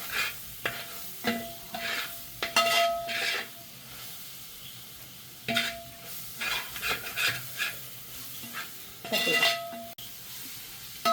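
A spoon scrapes and stirs chicken biryani masala in a pan, irregular bursts of metal-on-pan scraping over a soft sizzle, close and fairly loud, with pauses between strokes.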